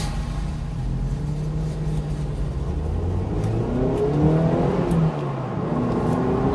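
A Mazda Miata race car on Bridgestone RE71R tires revs and pulls away at a vintage grand prix road race, its mid-pitched engine note rising and falling steadily, loud and close, with no talking.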